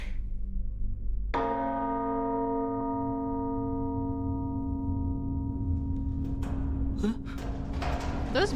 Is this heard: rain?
no